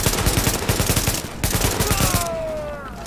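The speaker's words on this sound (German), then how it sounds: "Kannst du da so ein bisschen durch die Ritzen schießen." Rapid bursts of automatic gunfire in Tom Clancy's The Division, a dense rattling volley for about two seconds, then a brief pause and a fading ringing tail as the shots stop.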